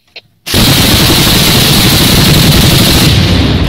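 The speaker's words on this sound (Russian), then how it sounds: "Вы видите, откуда по нам стреляют?" Heavy, loud burst of gunfire aimed at soldiers in the war in Ukraine, starting abruptly after a brief quiet moment and continuing as a dense, sustained roar of rapid shots close by.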